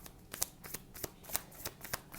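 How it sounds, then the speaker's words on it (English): Tarot cards are shuffled close up in a quick series of crisp, papery riffles and taps, about eight sharp bursts in an uneven rhythm, quiet and alone with no talking. "Last shuffle here."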